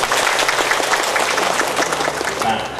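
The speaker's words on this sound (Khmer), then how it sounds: "សូមអបអរសាទរ" An audience at a flood relief donation event claps steadily in a dense, close burst of applause.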